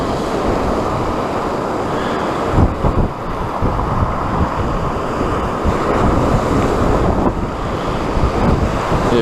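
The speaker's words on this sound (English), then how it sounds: "Yeah, very windy today." Strong wind buffets the microphone while choppy sea waves break on the shore at Norman's Bay, UK, a loud, continuous roar with surges.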